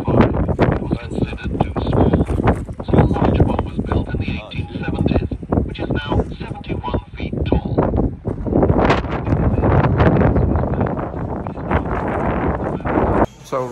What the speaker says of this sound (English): It's absolutely lovely, but it's really, really windy.